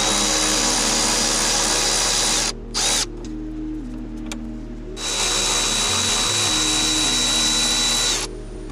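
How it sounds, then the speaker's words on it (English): A power tool whirs loudly with a 13mm socket on the two fan shroud fasteners of a 1993-'98 Jeep Grand Cherokee, running in steady bursts with brief pauses between them. "the fan shroud is held in place with two fasteners, and you'll need a 13mm socket for removal"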